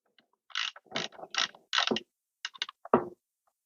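Burr adjustment on a DF64E coffee grinder being loosened and locked, heard up close as a series of ratcheting clicks and grinding mechanical turns in short bursts, with no talk.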